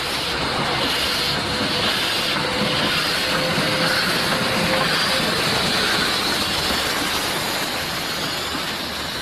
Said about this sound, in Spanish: El convoy va encabezado por la locomotora número 51.